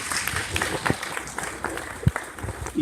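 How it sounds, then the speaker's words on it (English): Short, scattered clapping from an audience at a weather awareness event, several sharp claps over a low room murmur, fairly faint and brief. "give a round of applause to Brendan back there"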